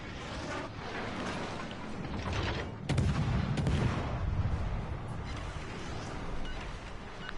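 Naval guns boom from warships in World of Warships Legends, a continuous rumbling barrage of heavy distant shots with one stronger blast midway, layered over steady battle noise.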